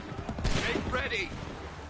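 A musket volley from a line of soldiers in Assassin's Creed III crackles out in one quick burst, followed by a brief rolling tail, mid-distance and fairly quiet beneath other game sound.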